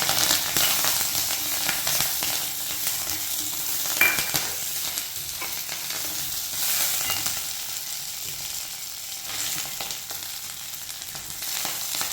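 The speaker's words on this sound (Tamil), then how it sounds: "நல்லெண்ணெய் ஊற்றி பெருங்காயம் மிளகாய் வறுக்கும்" Asafoetida and dried chillies frying in sesame oil, a continuous crackling sizzle with occasional stirring scrapes, fairly close and steady for the whole stretch, with no voices.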